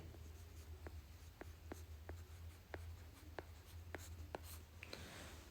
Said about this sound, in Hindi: ये नल दमन यहाँ लिखेंगे हम